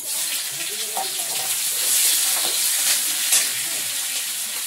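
Spices and chopped onion sizzling in hot oil in a pan, a loud, continuous hiss and crackle with brief pops, steady throughout.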